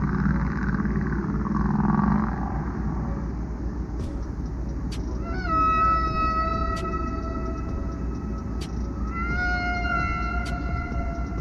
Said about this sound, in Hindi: व्हेलें अपने साथियों से संपर्क बनाए रखने के लिए एक खास प्रकार की आवाज निकालती है जो काफी मधुर होती है